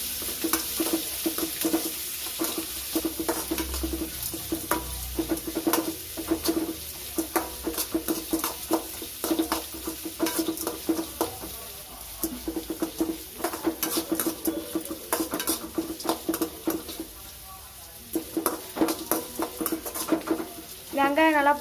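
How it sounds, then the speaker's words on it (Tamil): Onions sautéing in a pan until golden for samba rava upma, a steady low sizzle broken by frequent scraping and stirring taps, close and moderately loud throughout. "வெங்காயம் நல்லா பொன்னிறமாக வதங்கட்டும்."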